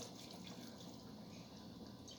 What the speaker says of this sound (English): I'm just gonna add a little bit more hot water,